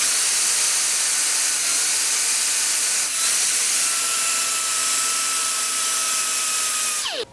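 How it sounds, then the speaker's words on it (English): Pneumatic die grinder fitted with a small flat disc, filing burrs on a chainsaw chain, a steady high-pitched airy whine running continuously at close range before cutting off abruptly. "I'll use my pneumatic die grinder."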